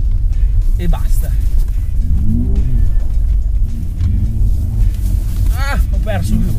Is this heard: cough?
no